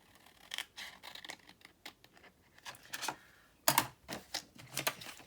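Scissors cutting through card stock for a handmade cascading card, a quiet run of crisp snips and clicks, with sharper louder cuts near the end, close to the microphone and without talk.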